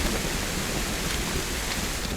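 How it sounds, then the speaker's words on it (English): Steady rain falls in the DayZ video game, a dense, even hiss that holds constant throughout with no voices over it. "I feel like I'm screaming over the fucking rain."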